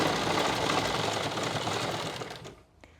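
A sewing machine runs steadily, stitching a pocket onto palazzo pants, with a loud continuous whir that slows and stops near the end, no talking.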